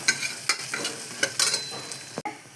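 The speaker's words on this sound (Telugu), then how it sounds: "అల్లం పేస్ట్ వేసుకుందాం కొబ్బరిగా వేసి కొబ్బరి ఇవన్నీ కొంచెం దోరగా వేయించుకుందాము" Ginger paste and coconut fry in a pan for a snail curry, with close, regular spatula scrapes over a continuous sizzle, brief and with no speech.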